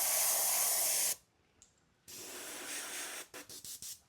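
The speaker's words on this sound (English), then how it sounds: "A little test spray there before we go committing." An aerosol can of mint green paint hisses in a sustained spray for a custom RC car body, then after a pause sprays again with a longer burst and several short puffs.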